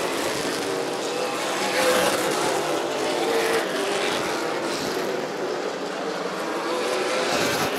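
Race cars at Rockford Speedway during an ARCA Midwest Tour event, a continuous loud roar of engines at the short oval with a steady broadband wash of several cars under the crowd noise.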